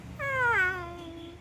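A child imitates a cat with a single drawn-out, rising and falling meow, loud and close, over a faint low room hum.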